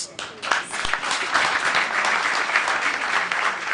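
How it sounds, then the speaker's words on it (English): A crowd applauds, dense clapping that swells quickly and holds steady and loud for several seconds. "Let's give her a big round of applause."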